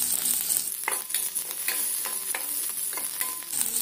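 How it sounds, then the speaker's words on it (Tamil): Small onions and curry leaves frying in a pan while being stirred, a steady close sizzle broken by several sharp scraping clicks of the spoon against the pan, with no voices. "இப்ப இந்த வெங்காயம் நல்லா வதங்குற வரைக்கும் கலந்து விட்டுறலாம்"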